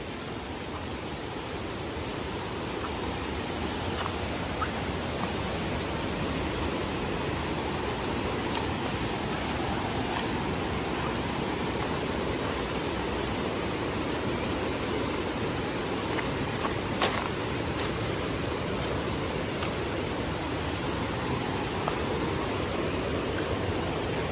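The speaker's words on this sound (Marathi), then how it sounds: "या बघा इकडे नदी ही नदी वाहता" A river in flood flows past plantation land, giving a continuous, even rush of water that holds steady throughout with no voices over it.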